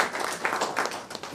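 A literary event audience in Ajmer gives a short burst of applause welcoming writer Uday Prakash, a dense patter of many hands, moderately close and steady.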